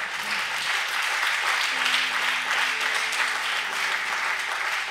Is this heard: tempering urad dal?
no